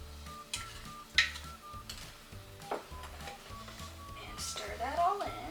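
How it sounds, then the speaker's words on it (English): A spoon stirs melted butter into blackberry cobbler batter in a bowl, giving wet scraping strokes with occasional clinks, fairly close and steady. "And stir that all in."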